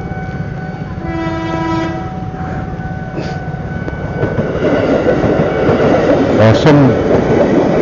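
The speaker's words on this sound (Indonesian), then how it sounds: "Kereta JPL 14" A train rumbles past at level crossing JPL 14 in Kediri, Indonesia, at night, its horn sounding and wheels clattering as the noise builds and stays loud, with someone talking briefly over it.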